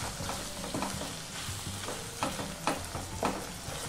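Minced mutton keema fries in a pan and is stirred repeatedly, a continuous close sizzle broken by regular scraping strokes of the spoon, moderately loud and with no speech.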